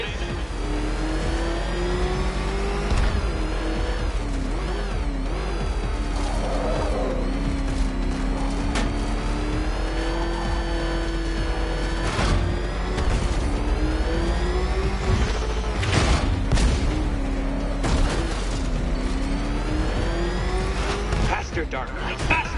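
The Batmobile in Batman: Arkham Knight revs and accelerates with a loud, rising and falling mid-pitched engine roar throughout, while voices talk over the engine.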